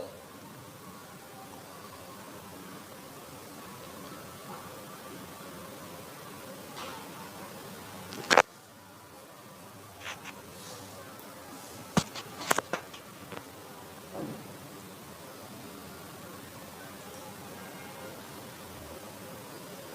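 Pitha, a sweet flour-and-sugar dumpling, fries in hot oil with a steady soft hiss and fizz throughout, broken by a few sharp pops and clinks near the middle.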